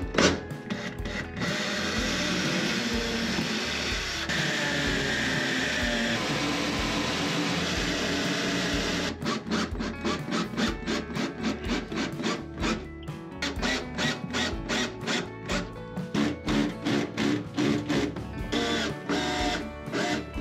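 Long screws are driven into a pad glued to a bulkhead on a sailing catamaran. A continuous whirring motor runs first, then gives way to a series of short, rhythmic power-driver bursts with brief gaps between them, close by and with no talking.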